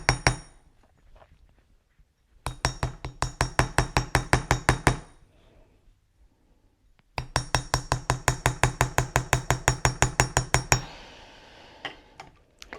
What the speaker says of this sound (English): first really give it a good hammering with your nylon hammer